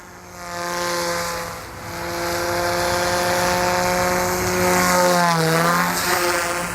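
Goosky S2 Max RC electric helicopter motor at 68% throttle in Needle Up 1 mode, a steady loud whining drone with strong harmonic tones that shift in pitch as the craft moves, continuous and with no voices.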